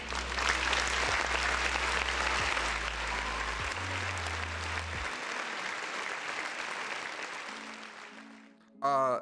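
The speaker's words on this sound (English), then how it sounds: "round of applause for the folks in the chat." Sustained applause from a crowd, dense clapping that holds steady before easing off, with a low droning tone beneath and a brief electronic chime at the end, during a live-streamed show.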